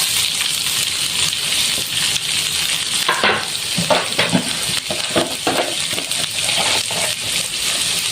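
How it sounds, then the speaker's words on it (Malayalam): Finely chopped onion frying in hot oil with browned garlic and ginger, a loud continuous close sizzle with repeated stirring scrapes and clinks of a spoon on the pan; no voices. "ഇനി സവാള ചെറുതായിട്ട് അരിഞ്ഞതാണ്, അത് ഇതിലേക്ക് ഇട്ട് കൊടുക്കുക"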